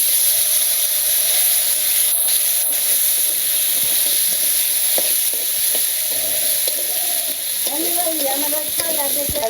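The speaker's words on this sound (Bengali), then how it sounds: "আলু একটু ভেজে নিলাম, তাই সিদ্ধ হইব।" Potatoes frying in hot oil in a village kitchen, a loud continuous sizzle and hiss with stirring scrapes and occasional knocks, and a voice talking briefly near the end.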